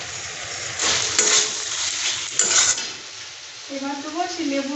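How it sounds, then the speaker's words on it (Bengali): Fried onions and chilies are stirred into spices sizzling in a pan for mutton curry, a close, bright frying hiss with scraping stirs, easing near the end as a voice briefly sounds. "এবার আমি যে পেঁয়াজ আর লঙ্কাটা ভেজে রেখেছিলাম সেটাও আমি দিয়ে দেবো।"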